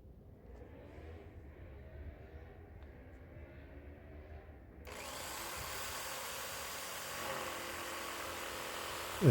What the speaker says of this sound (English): And with a jigsaw, I'm cutting out the shape of the charcuterie board.